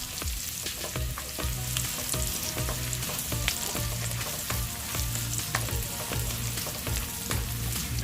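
Garlic and onion fry in a pan with a loud, even sizzle close by, dotted with frequent small crackles and a low recurring hum beneath, while a utensil occasionally stirs; nobody speaks.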